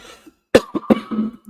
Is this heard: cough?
yes